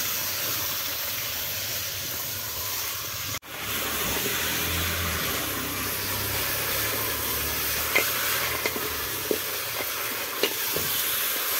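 Sheep meat frying in oil for shurba, a constant close sizzle and hiss broken by a brief drop in sound, with scattered light clicks of stirring later on.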